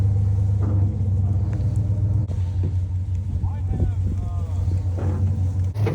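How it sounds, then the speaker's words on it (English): Steady low engine rumble and road noise from a truck, heard while riding on its tailgate outdoors with wind buffeting the microphone, and a voice speaking briefly over it. "riding on the back of a truck tailgate with my buddy Ben"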